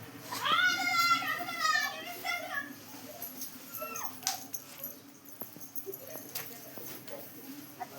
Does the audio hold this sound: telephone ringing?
no